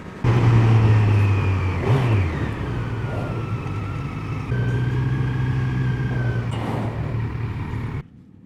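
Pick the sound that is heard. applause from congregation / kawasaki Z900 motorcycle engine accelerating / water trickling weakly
kawasaki Z900 motorcycle engine accelerating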